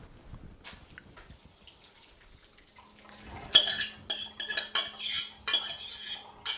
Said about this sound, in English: we're going to dump this into the colander so that the water that remains drains off of there